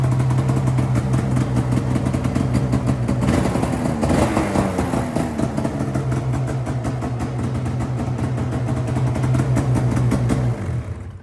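A motor engine runs loudly and steadily close by, with a low rumbling idle that surges briefly partway through before settling back to an even hum.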